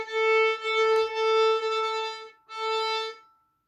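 Poorly bowed string instrument with the bow hair not set into the string, giving a thin, weak tone: sustained harmonic-rich notes in three long strokes with a gap before the last, alone and close.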